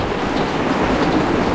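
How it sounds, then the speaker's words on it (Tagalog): Steady rain falls outdoors as a dense, even hiss with low rumble beneath, unbroken across the whole short stretch. "nabot tayo ng ulan na."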